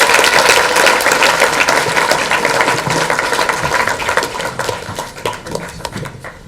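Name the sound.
audience applause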